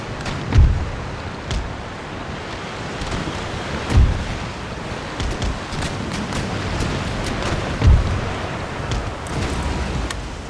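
Storm at sea in the Empire: Total War strategy game, with steady rain and wind noise broken by three deep thunder booms spread across the stretch; no talking.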